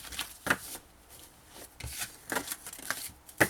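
Scissors trim a long strip of paper for a scrapbooking folio album: several short, crisp snips and rustles spaced across a few seconds, close and fairly quiet, with no voices.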